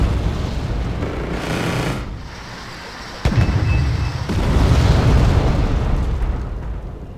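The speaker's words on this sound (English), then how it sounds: "Boy, those cluster bombs aren't very good." Cluster bomb blasts from a combat flight video game rumble as a long run of overlapping booms and crackling bursts, loud and close, with a sharp impact near the middle and a heavy rolling roar afterward, no voices.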